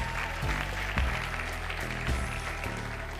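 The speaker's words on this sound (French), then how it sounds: "On peut les applaudir." Audience at a college student show applauding after a participation segment, a continuous wash of clapping with a few louder bursts, filling the whole moment without speech.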